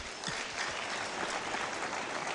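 A crowd gives steady, dense applause at a first graduation ceremony, a continuous wash of many hands clapping with no talk over it.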